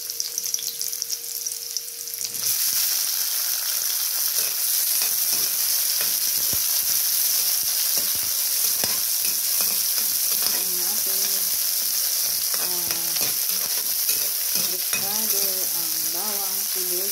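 Garlic, onion and tomato sautéing in hot oil for squid adobo, a loud steady sizzle and crackle after a brief quieter start, with occasional stirring scrapes and clatters throughout.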